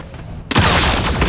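Gunfire in the mecha battle game Super Mecha Champions: a sudden loud burst of rapid shots cuts in after a quiet moment and keeps rattling steadily to the end.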